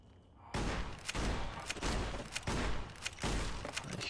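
A police shotgun in Fallout New Vegas fires again and again, with sharp, loud blasts every half second or so after a quiet start, and no talk over them.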